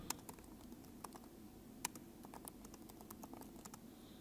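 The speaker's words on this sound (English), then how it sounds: "I can type into that text box." Quiet typing on a computer keyboard at a JSConf conference talk, a loose, irregular patter of keystrokes with a few sharper taps over a low room hum.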